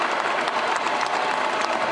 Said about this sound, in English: we first have to give a round of applause to the Denver Nuggets